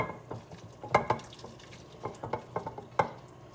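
Cooked ground turkey for chili scooped with a utensil into a crock pot, a few soft scraping clinks and wet plops spread across a quiet kitchen.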